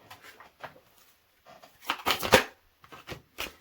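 Tarot cards riffled and slid across one another in a quiet room, with soft flicks at first and then a denser burst of shuffling in the middle, followed by a few light snaps as cards are drawn.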